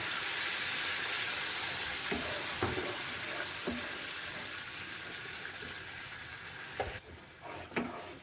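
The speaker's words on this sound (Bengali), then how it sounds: "একটু টমেটো পিউরি দিয়ে একটুখানি কষিয়ে তারপর এর মধ্যে আমি দিয়ে দিলাম কাজু বাদাম বাটা" Cashew paste and tomato puree frying in a pan for stuffed dum aloo, a steady soft sizzle filling the background with a few faint scrapes and taps of stirring, quieter near the end, no talk.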